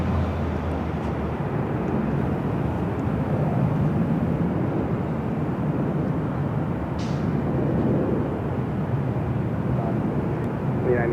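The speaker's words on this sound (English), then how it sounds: "Next arrival is a flight coming in from Fort Lauderdale, Florida" A two-year-old Delta Airlines Airbus A321neo arriving at LAX: a steady, broad jet roar that holds at a moderate level throughout, with faint radio chatter now and then in the background.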